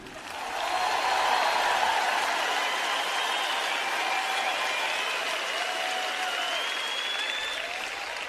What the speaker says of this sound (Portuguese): Vocês não estão batendo muitas palmas sobre isso?